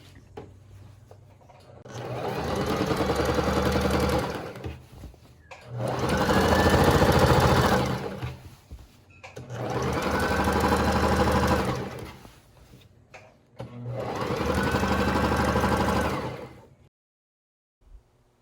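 Sewing machine running long gathering stitches through skirt fabric, four sustained bursts of rapid whirring and clatter separated by brief pauses, fairly close and with no talking.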